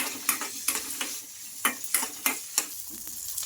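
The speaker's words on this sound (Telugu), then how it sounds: "మనకు ఈ మిర్చి అనేది బాగా ఫ్రై అయిపోవాలి." Green chillies and ginger frying in a spoonful of oil, a soft sizzle punctuated by regular clicking taps of a spoon against the pan as they are stirred.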